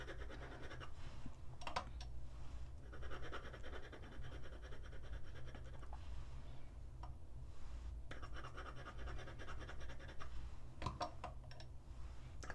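A fountain pen filled with grape-purple ink scratches across paper in soft, intermittent strokes. The sound is quiet and close, with brief pauses between the bursts of writing.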